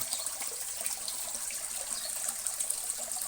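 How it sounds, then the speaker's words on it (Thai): Water splashes and trickles steadily into a koi pond, a soft continuous babbling with small bubbling bursts, fairly faint and without voices. "ปล่อยให้น้ำไหลลง ลงบ่อนะครับ"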